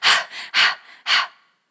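A person imitates a confused gasp, giving three sharp breathy intakes in quick uneven succession, close and fairly loud, with no words.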